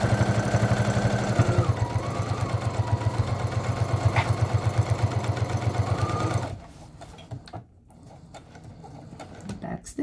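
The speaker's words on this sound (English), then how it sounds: "I'm backstitching" Sewing machine running in a steady rapid stitching rhythm while backstitching a quarter-inch seam on a reusable snack bag, loud and close for about six seconds before stopping, leaving quiet handling noise.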